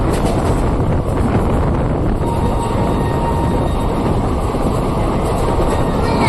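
A passenger train pulls away from Dubrajpur station with a loud, continuous rumble and rush of rail noise, heavily buffeted by wind across the microphone.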